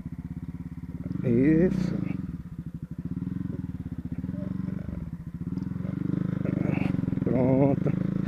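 A 2019 Honda CB Twister motorcycle rides along a dirt road, its engine droning steadily up close with a couple of brief revs, while a rider talks over it.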